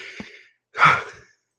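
Two heavy breaths close to the mic, a short exhale followed by a longer, louder breathy sigh, with silence between.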